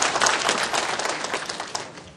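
Applause from a crowd at a Korean party's joint campaign rally in Chungbuk, a steady dense patter of many hands clapping that continues throughout and eases slightly toward the end.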